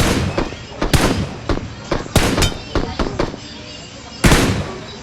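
Loud bursts of gunfire crack out in irregular volleys, some shots quick and close together, with a sharper blast near the end.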